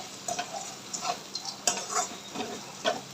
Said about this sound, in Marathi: आता हे आपण जे सांडगे तेलात तळून घेतलेले ना ते ह्याच्यात ॲड करायचे ते देखील व्यवस्थित मिक्स करायचे